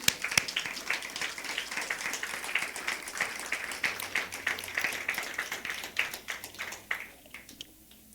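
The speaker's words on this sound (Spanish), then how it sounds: "¿Podremos darle un aplauso entonces al Señor?" A church congregation applauds for several seconds, a dense, steady patter of many hands clapping at moderate distance, tapering slightly toward the end.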